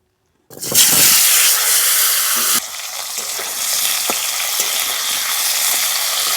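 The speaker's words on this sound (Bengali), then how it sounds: "এবার আলুটা একটু তেলের উপরে দিয়ে দেব" Potatoes drop into hot oil left from frying shol fish and erupt into a loud, dense sizzle that eases after a couple of seconds into a steady close frying hiss with faint stirring ticks.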